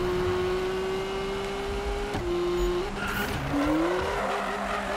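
A car drifting in Need for Speed 2015 lets out a sustained, loud tire squeal that bends in pitch over a constant engine roar, with a brief break partway through.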